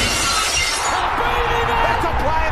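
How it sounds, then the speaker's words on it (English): A glass-smashing sound effect cues in for an AFL podcast, a bright crashing shatter followed by tinkling debris that fades away, loud and close over a busy background. "cue the smashing"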